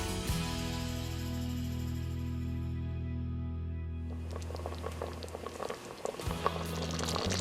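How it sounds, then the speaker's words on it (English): A constant Instant Pot hum on saute gives way to soft, irregular bubbling and popping of thick pineapple chicken sauce simmering close by. "It did not take long on saute to start boiling, bubbling"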